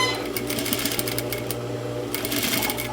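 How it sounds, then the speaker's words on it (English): A sewing machine stitches along denim jeans near a rivet with a rapid, steady mechanical chatter close by, briefly easing near the middle before running on. "I'm going to reverse here to make sure that that stitch is reinforced"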